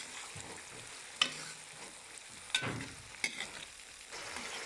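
Peas for matar pulao frying in a pan, a steady soft sizzle with a few sharp stirring scrapes spaced through it, close and moderately quiet, no voices.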